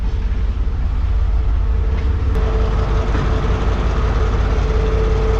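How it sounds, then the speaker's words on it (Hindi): A passenger train locomotive's diesel engine runs heavily nearby, a loud steady low rumble and drone with a persistent hum, heard from a coach just behind the engine on a Mohenjo-daro route in Sindh. "ताकि थोड़ा बहुत जो है वो साउंड रिकॉर्ड कर लें लोकोमोटिव का"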